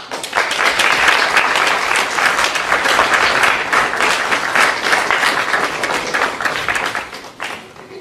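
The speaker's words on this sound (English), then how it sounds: "Let's give her another round of applause, please." Sustained audience applause fills a college symposium hall, dense and steady for several seconds before tapering slightly near the end.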